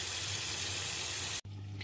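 Tap water runs hard over Seachem Matrix filter pebbles being rinsed for an aquarium sump, a steady close hiss that cuts off abruptly, leaving a low electrical hum.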